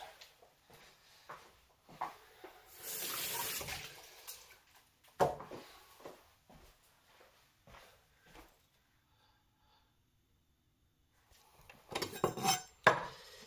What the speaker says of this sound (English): Give these a quick rinse.